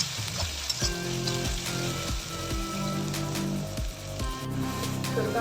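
Onion frying in a pan for egg Maggi, a close, continuous crackling sizzle with bursts of spitting and a few soft stirring scrapes.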